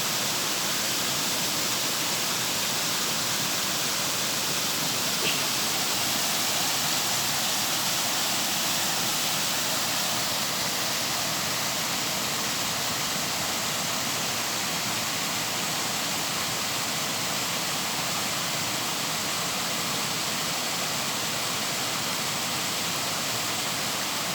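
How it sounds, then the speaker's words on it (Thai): Water pours from an irrigation channel into a river in a rural setting, a loud, steady, broadband rushing roar that holds constant throughout with no voices. "น้ำไหลลงแม่น้ำยาวเจ้า"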